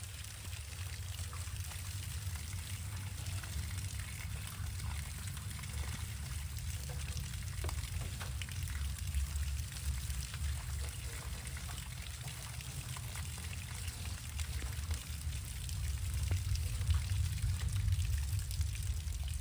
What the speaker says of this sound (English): now it's starting to rain on me